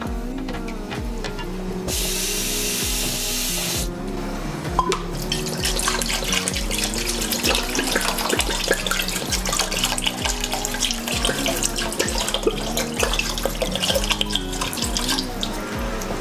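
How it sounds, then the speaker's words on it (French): Water gushes from a tap into pork massalé for about two seconds in a steady hiss, heard over a constant backing of rhythmic music, with no voices. "je vais y ajouter de l'eau encore une fois"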